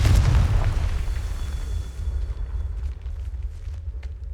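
A Confringo spell explodes in the Hogwarts Legacy video game with a heavy boom up front, followed by a rumbling tail and scattered crackling debris that fade over a few seconds.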